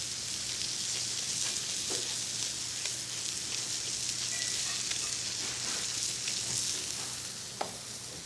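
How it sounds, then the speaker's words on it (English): Pepper-seasoned ketchup ingredients being stirred with a small wooden spoon in a pot as they cook, giving a steady, continuous sizzle and bubbling hiss close up, with faint scraping and no talking. "I'm gonna get out a little wooden spoon. I'm gonna start moving everything around."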